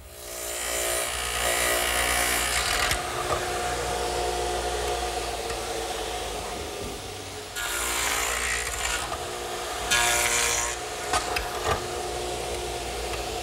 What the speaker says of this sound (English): make a dado to receive the pot shelf